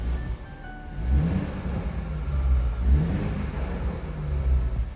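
A 2022 BMW Z4 G29 roadster in sport plus mode, its engine revving in a few low, rumbling swells that rise and fall close by.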